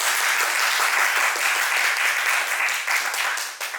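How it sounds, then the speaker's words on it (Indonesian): A classroom of students applauds in a steady, dense burst of clapping that holds for a few seconds and fades slightly at the end. "Tepuk tangan dulu untuk kita"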